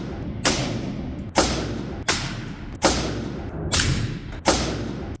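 Six suppressed 5.56 rifle shots through a HUXWRX HX QD 5.56 Ti titanium suppressor on an outdoor range, each a sharp muffled crack with a short decaying tail, fired at a steady rhythm of roughly one per second, loud and close.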